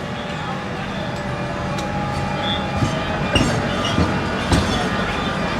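The Sóller tram rolls along its rails in town with steady rumble, clickety-clack and occasional squealing wheels, close by, while people talk in the background.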